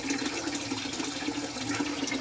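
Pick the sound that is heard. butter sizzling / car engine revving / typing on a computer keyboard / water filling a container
water filling a container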